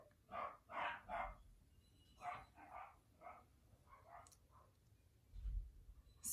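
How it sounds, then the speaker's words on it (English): Several dogs bark indoors in a house, a few muffled yaps in short bursts, faint and distant, with quieter scattered barks and a thump near the end. "I have a dog barking"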